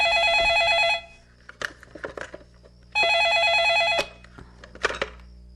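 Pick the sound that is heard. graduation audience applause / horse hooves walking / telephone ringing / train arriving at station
telephone ringing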